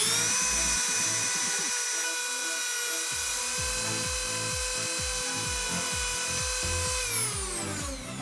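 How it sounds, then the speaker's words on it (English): A Dremel rotary tool cuts into a plastic container, a loud high-pitched whine that holds steady for several seconds and dips as it bites into the material, then spins down near the end. "I'm gonna take my Dremel and begin cutting it."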